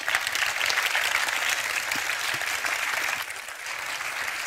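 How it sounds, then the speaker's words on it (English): Sustained audience applause at a talk by Vishen Lakhiani, steady and dense throughout, tapering slightly near the end. "Please give Leila a round of applause"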